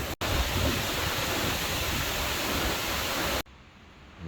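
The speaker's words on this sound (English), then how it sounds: "the waves are coming all the way over that sandbar" Ocean waves crash over a sandbar at night during a tropical storm in Iloilo, a loud, dense, unbroken roar filling the air, then cutting off abruptly near the end.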